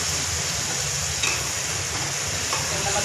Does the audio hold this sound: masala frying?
yes